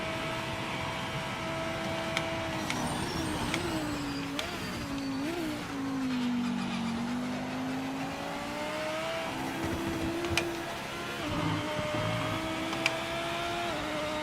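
Race car engine in the Project Motor Racing video game revving and shifting, its pitch sweeping up and down as the car accelerates and brakes, steady and prominent for the whole stretch.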